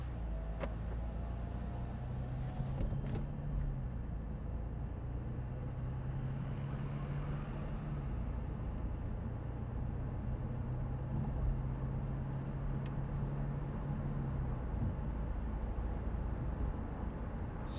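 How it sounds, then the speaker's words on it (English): A 2017 Mercedes-Benz C300 drives with its top down, giving a low, steady engine and road rumble with a faint hum, even and unbroken throughout with no talk. "I'm getting ready to put this in gear and go for a quick ride"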